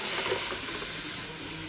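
A pot of rasam seasoned with curry leaves boils and froths up, giving a soft continuous bubbling hiss close by that fades slightly across a brief moment.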